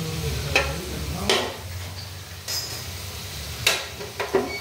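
Red-potato gulab jamun (lalmohan) frying in oil, a low steady sizzle broken by several sharp clinks and scrapes of a utensil against the pan, with no voices.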